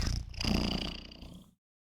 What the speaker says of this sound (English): I don't know if it picks up his purrs.